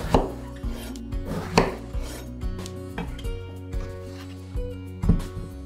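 Knife chopping round eggplant on a board for Melaka-style chicken asam pedas, a run of sharp chops at an irregular rhythm, close and fairly loud, with clattering and a low background hum.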